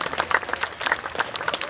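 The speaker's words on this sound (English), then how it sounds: "Let's give them a big round of applause." Light audience applause for members of a community band at a July 4th concert, a short burst of scattered claps from a modest crowd, moderately distant.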